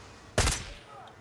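A single loud gunshot burst from the Far Cry 6 video game, one sharp crack with a short ringing tail, standing out briefly against quiet background.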